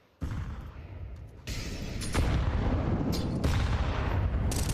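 Grenade blast in Counter-Strike during a competitive match, a loud sudden boom followed by a second heavier rumble and sustained gunfire-like crackles.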